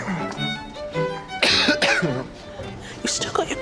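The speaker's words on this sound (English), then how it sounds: "You still got your cough?" A person talks, and a harsh cough breaks through partway, with throat-clearing sounds mixed into the speech.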